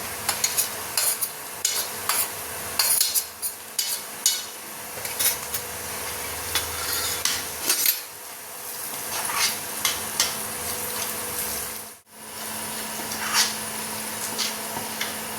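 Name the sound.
stir-frying onion with red chili masala in oil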